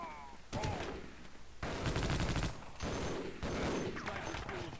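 Video game gunfire comes in several loud rapid bursts separated by short gaps, close and dense, with no clear talk over it.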